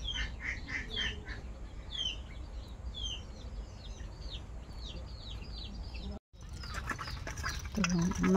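Pet Chinese ducks quack in repeated bursts close by, with other fowl calls mixed in over a steady low background hum, cut by a brief dropout before livelier calls return.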